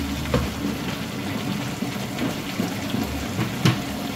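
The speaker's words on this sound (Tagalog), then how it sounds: "So yung itlog natin ay kumukulo na." Steady bubbling and sizzling hiss from eggs boiling in a small pan on the stove, continuous and fairly close, with a couple of small knocks.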